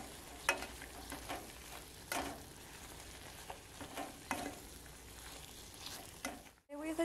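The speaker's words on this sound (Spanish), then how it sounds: "y lo voy a estar revolviendo para que desde aquí ya agarren sabor las rajitas" Rajitas, strips of pepper, stirred in a pan with consommé and a pinch of salt, a soft steady sizzle broken by occasional scraping spoon strokes, quiet and close with no talking.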